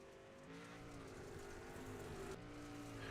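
Race car engines in the iRacing game drone faintly but steadily, with a brief rev change midway, and there is no talk.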